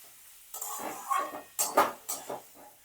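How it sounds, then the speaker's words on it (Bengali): Chicken mince stirred with spices in a pan, heard as a few distinct scraping strokes of a utensil against the pan over a faint background sizzle, with no voices. "চিকেন কিমেটা দিয়ে এবার ভালো করে মশলার সাথে কিন্তু মেশাতে হবে"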